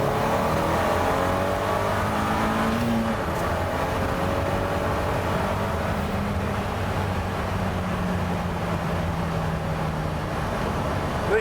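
KTM X-Bow fitted with a 2.0 TFSI engine accelerating hard through the gears, a steady engine roar heard from inside the car, with rising pitch sweeps and a continuous road drone.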